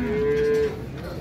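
A cow moos once, loud and close, amid the background bustle of a cattle market in Şarkışla, Turkey, where pregnant cows are being sold.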